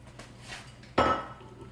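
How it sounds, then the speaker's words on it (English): A cast iron skillet is set down on a stove: a faint shuffle, then a single sharp metallic clank that rings briefly and fades. "we're going to take our skillet"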